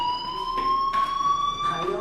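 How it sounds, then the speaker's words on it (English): A fire alarm in the video game Life Is Strange rings as a loud, steady electronic tone with pulsing bursts, continuous throughout the short stretch. "do you hear that fire alarm?"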